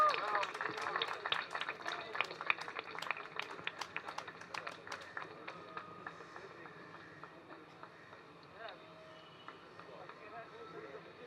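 An audience at a photo exhibition award ceremony applauds a winner. The dense patter of clapping is fairly distant and gradually thins and fades into a quieter room.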